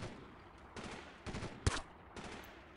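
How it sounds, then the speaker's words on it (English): Gunfire in the video game Delta Force 2: several bursts of shots with one sharp crack standing out, fairly quiet and heard from a distance, with no talking. "somebody's shooting at us"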